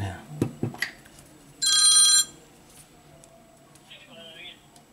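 A phone rings once in a short, bright burst partway through, set among clattering workbench noises during a Samsung Galaxy Note10 Lite screen repair, with a brief warbling tone afterward.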